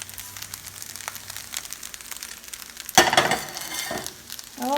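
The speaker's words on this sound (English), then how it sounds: "Now I'm going to put the egg in." Egg hits a hot pan for pork fried rice, starting with quiet kitchen clatter, then a sudden loud burst of sizzling and frying that settles into a steady crackle, no talking.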